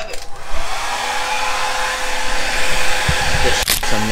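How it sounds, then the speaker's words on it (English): A hand-held blow dryer runs in a bathroom, a steady close whirring roar for the whole stretch with brief clicks and handling bumps near the end; no talking. "we got a blow dryer"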